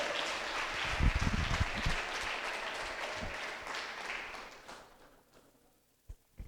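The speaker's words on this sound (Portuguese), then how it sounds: "Aplaude Jesus aí, meu irmão, com toda a sua alegria." Applause at a church Bible study, with a dense wash of clapping from a congregation that swells, holds, then fades out near the end, followed by a couple of isolated sounds.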